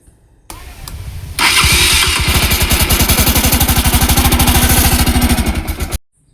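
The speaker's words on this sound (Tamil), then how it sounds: "வண்டி இன்ஜினை ஸ்டார்ட் பண்ணுறேன், நீங்களே பாருங்கள்." A Bajaj Pulsar NS200 motorcycle engine with engine oil mixing into the coolant cranks briefly, catches and runs loud and close with a fast, rhythmic chugging idle, then cuts off abruptly.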